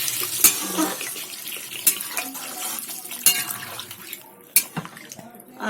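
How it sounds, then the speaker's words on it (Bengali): Water is splashed into a pan of fried spice paste for a papaya and lentil-fritter curry. There is a short wet pour with sharp clinks of a utensil against the pan, close and moderately quiet. "মশলাটা আবার জল দিয়ে দিলাম"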